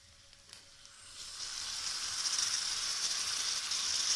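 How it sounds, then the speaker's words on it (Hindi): Tomatoes and onions fry in a pan over medium to high flame, a soft hiss swelling into a steady, loud sizzle with no talking. "और टमाटर को भी हम प्याज के साथ मीडियम टू हाई फ्लेम पर 2 से 3 मिनट के लिए भून लेंगे।"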